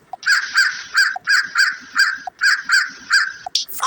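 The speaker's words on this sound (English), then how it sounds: "Crow." A crow caws over and over in harsh, evenly spaced calls, loud and close, about a dozen in quick succession.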